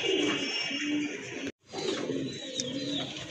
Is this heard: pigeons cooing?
yes